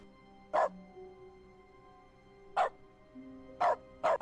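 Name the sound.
dog barking when clicked in video game The Stanley Parable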